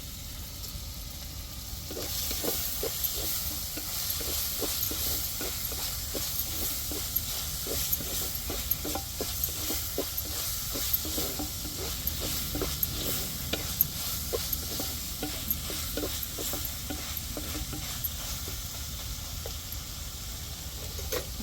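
Three dried red chillies fry in a pan for a chicken dish, making a constant hissing sizzle with a steady rhythm of light stirring taps running all the way through.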